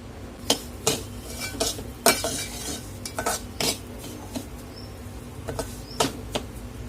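Semolina being stirred in ghee in a pan over low heat for mango shira, with a series of distinct spoon scrapes and clinks against the pan over a faint background sizzle, no talking.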